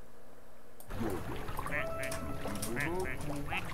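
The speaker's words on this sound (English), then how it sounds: "It quacks." Repeated quacks from a cartoonish video game duck ring out over a steady hum, with a faint voice in the background.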